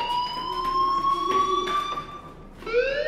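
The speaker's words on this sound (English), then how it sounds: "do you hear that fire alarm?" A fire alarm rings in the video game Life Is Strange, a loud electronic tone sustained with slight pulsing, then dropping out briefly before sounding again at a rising pitch.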